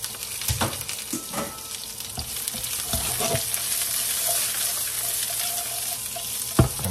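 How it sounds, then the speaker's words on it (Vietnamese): Garlic sizzling in hot oil in a pan, the first step of a Vietnamese stir-fry of green beans with garlic, a steady close crackle broken by a few sharper spatters and stirring scrapes, with no talk. "nó nóng rồi thì mình cho tỏi vào"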